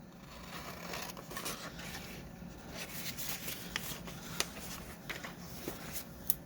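Paper being cut by hand while making a paper wallet for journal cards, with soft steady rustling and scraping and a few crisp snips near the end, close and quiet, with no talk.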